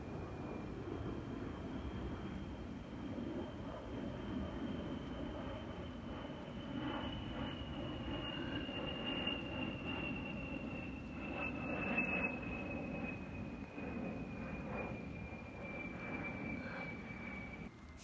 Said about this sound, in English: Those are just the coolest plane ever made.